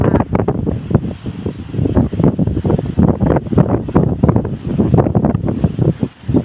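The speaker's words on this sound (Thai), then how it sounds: "โอ้ลมแรงมากวันนี้พัดเอาลมนไปหมดเลย" Very strong wind gusting across a house balcony in Sikhio, Thailand, pushing rain clouds away at dusk; loud, continuous buffeting rumble hits the microphone in close, rapid surges with no talk.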